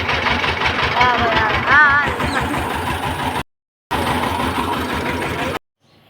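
A motorbike engine carrying three riders on a rural road runs with a steady mid-pitched drone, loud and close, with people talking over it and two brief dropouts.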